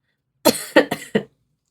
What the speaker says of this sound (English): just got a little bit of a cough there